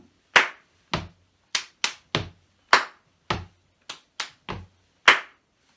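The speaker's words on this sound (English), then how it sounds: "Stamp, fingers, stamp, clap." Crisp body percussion in a steady pattern: stamps alternate with finger snaps and claps, about ten sharp hits spaced evenly with silence between, no talking.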